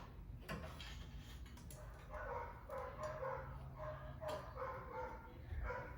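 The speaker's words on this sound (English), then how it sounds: "thank you, neighbor's dog, once again for barking on my videos" A neighbor's dog barks in repeated bursts across the clip, at moderate distance behind steady outdoor background noise, near a 1974 AMC Javelin being worked on.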